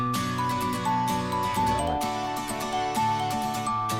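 A full music mix plays at a loud, steady level, with melodic tones on top and a layered, dense backing underneath, including violin and vocal. No one talks over it.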